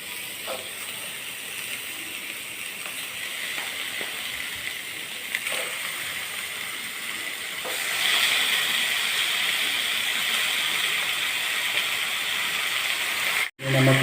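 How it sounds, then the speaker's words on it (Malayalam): Two kilos of washed chicken land in hot masala in a pan for a Kerala-style chicken curry, and a steady close sizzle and hiss follow, brightening partway through, with faint scraping clicks and a brief dropout near the end. "ഇനി നമുക്ക് ഇതിലേക്ക് നമ്മൾ കഴുകി മാറ്റി വെച്ച ചിക്കന് ഇടാം"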